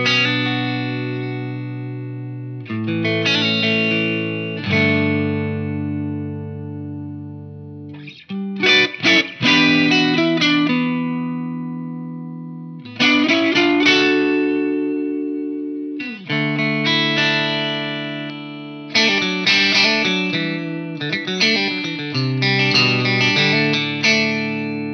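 Fender Custom Shop Jazzmaster electric guitar played through a Rocket Pedals Dude overdrive into a Dr. Z amp, ringing sustained chords and phrases with pauses between them, alone and up close, with gritty drive and a roomy tail.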